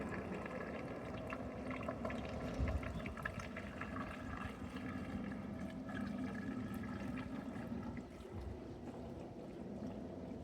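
Water pours steadily into the radiator of a 1972 Chevrolet C10 pickup, a faint continuous gurgling and trickling fill with small bubbling bursts, low in level and unbroken for the whole stretch.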